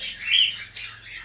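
Cockatiels call at an aviary farm: a few bright, high squawking chirps, one longer call followed by two shorter ones, close and fairly clear with no talk.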